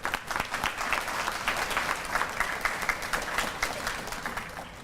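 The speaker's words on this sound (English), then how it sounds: "thank your family and friends with a round of applause for all their support" Sustained applause from a commencement ceremony audience fills the hall for about five seconds, a dense steady wash of many hands clapping at moderate distance with no talking over it.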